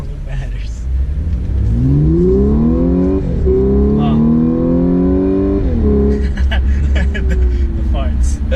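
Audi S4 all-wheel-drive sedan accelerating hard, engine revving up through rising pitch sweeps with gear shifts, followed by crackling exhaust pops on lift-off, loud and close.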